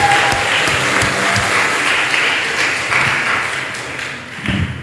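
An indoor audience at a women's Qur'an quiz semifinal gives the competing teams a sustained round of clapping, dense and even, fading slightly near the end.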